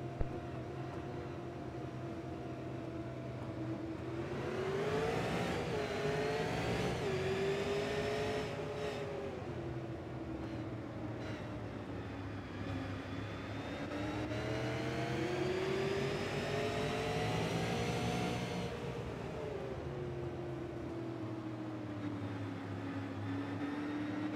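A pack of super late model race car engines in a sim racing game drones and revs up at the start in rising, overlapping waves, fairly faint and continuous, with no talking.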